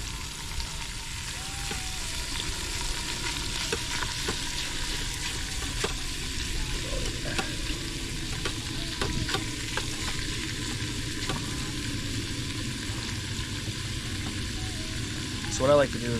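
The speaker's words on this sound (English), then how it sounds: "Hear that sizzle?" Beef sizzling and frying in a pan at a solo lakeside campsite on Lake Michigan, a steady close crackle throughout with occasional stirring scrapes.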